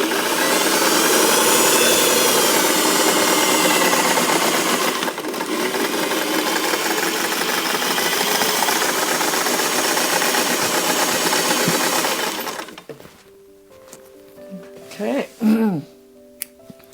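Sewing machine stitching a half-inch seam on a pillow, a steady continuous mechanical whir running for about twelve seconds before cutting off, followed by brief rustling and a few short tonal sounds.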